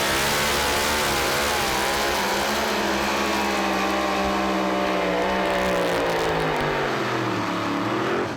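Corn Burner, a pro stock pulling truck driven by Jason Sullivan, roars at full power through a pull, its engine a loud, sustained, rising bellow with no break from start to finish.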